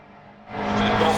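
A race car on a lap into the circuit's hairpin, exhaust shooting flames, surges from a low rumble into a loud, rising engine roar at close range.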